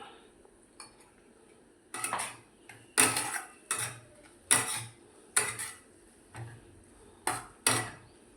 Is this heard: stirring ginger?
yes